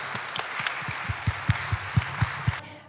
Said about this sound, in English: let's give a big round of applause to these lovely experts